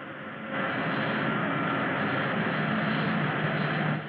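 A spaceship engine sound effect boosts to full power: a steady, loud, rushing roar that kicks in sharply, holds evenly for several seconds, then cuts off.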